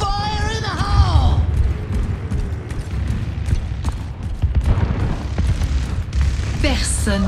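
Deep booms and blasts go off in Overwatch 2 Junker Queen gameplay, layered with game effects and clanking, while a character voice speaks over the action.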